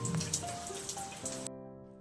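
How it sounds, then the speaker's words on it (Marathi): Heavy monsoon rain pours in a steady hiss of falling drops that cuts off abruptly, giving way to sustained tonal music. "सगळीकडे पाऊस कसा धुवाधार सुरू आहे ना"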